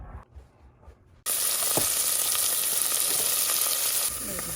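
Mustard oil tempering for urad dal bursts into a loud, steady sizzle after a quiet start, frying hard and continuously in the pan, then easing slightly toward the end.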